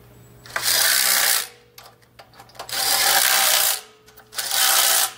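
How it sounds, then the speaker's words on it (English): Tightening the motor base bolts on a Mud Buddy motor with a power tool, giving three loud whirring bursts, each about a second long, separated by short gaps with faint clicks and handling noise. "So first I'm going to tighten up these bolts."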